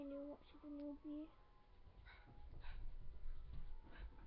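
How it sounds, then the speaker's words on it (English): A newly adopted puppy gives a few high, wavering whimpers early on, close and clear, followed by quieter rustling and shuffling indoors. "Oh, she's whimpering."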